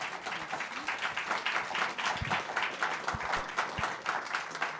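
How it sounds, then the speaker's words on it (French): An audience applauds at a French award presentation for the best original series, the AGrAF 2022 Coup de Coeur: dense, steady clapping from a crowd, fairly loud throughout with a few sharper low thumps mixed in. "je pense qu'on peut les applaudir"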